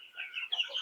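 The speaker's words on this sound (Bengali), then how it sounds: "এখানে 1500 পিস ব্রয়লার আছে" Broiler chickens in a poultry shed, a flock of about 1500 birds at 22 days old, give off soft overlapping clucks and chirps in a brief, steady, moderately quiet burst.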